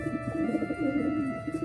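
Soft, low cooing from Gondok cross Modena fancy pigeons murmurs continuously, close by and gentle, over a faint steady electrical hum.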